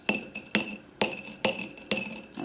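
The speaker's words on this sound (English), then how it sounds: "We'll use our hammer." A hammer taps repeatedly at an emerald dig kit block, a crumbly bath-bomb-like material, giving five or six sharp, close clinking knocks at an uneven rhythm with no talk.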